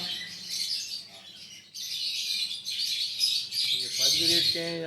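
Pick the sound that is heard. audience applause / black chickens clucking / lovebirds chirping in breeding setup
lovebirds chirping in breeding setup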